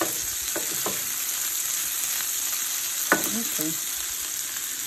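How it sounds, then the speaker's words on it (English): Brats, peppers and onions cook in broth in a pan, giving a steady, close sizzle and bubbling throughout, with a couple of brief stirring scrapes and a short spoken word over it. "I decided to add the peppers and onions now so it can finish cooking along with the broth"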